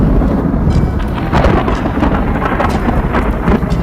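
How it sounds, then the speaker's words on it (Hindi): Thunder from a storm cloud over Islamabad, a loud continuous rumble with crackling bursts throughout, heard alone without voices. "इस्लामाबाद के पुरसुकून आसमान पर एक गरजता हुआ खौफनाक बादल"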